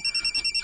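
Phone ringing with an incoming call, a rapid pulsing electronic trill of about seven short beats, close and clear with no talk.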